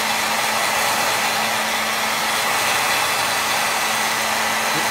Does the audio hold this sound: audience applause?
no